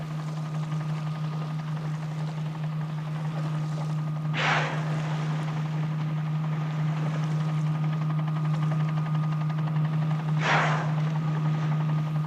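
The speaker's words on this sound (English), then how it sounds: "the helicopter hovering above" A steady mechanical drone of a helicopter hovering at a distance over the sea, with a low constant hum and two brief bursts of rushing noise.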